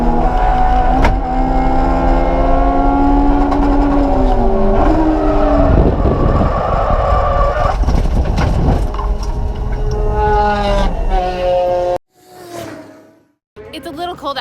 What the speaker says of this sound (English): It is now supercharged with the HKS supercharger, and I am testing out how fast I can go today